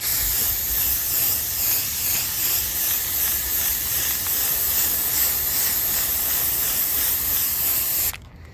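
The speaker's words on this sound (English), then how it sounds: "And we're just going to start spraying it." A steady, close aerosol cleaner spray hisses continuously for several seconds onto a Forge intake foam filter, then cuts off abruptly near the end.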